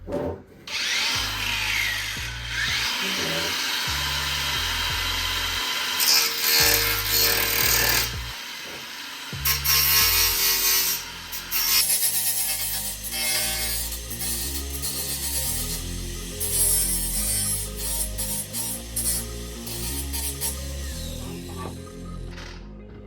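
A cordless angle grinder wheel trims wood, the motor whining and grinding in bursts of varying pitch as it bites and eases off, close and loud with no talking.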